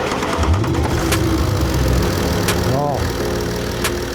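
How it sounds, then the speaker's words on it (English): A BMW Alpina D3 diesel engine, just back together after an oil leak repair, cranks and catches, then settles into a steady idle, close and loud, with someone speaking over it. "So now it's time to turn it over and start her up."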